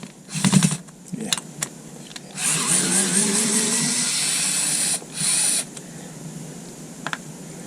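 Skil Twist 2.0 electric screwdriver driving screws into wood, close and moderately loud: short whirring bursts, then a longer sustained whine with a brief final burst, and small clicks and handling noises between the runs.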